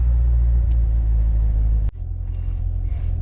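A yellow Corvette Stingray C7 engine idles with a low, steady rumble, close by, briefly dipping before settling back into its throaty hum.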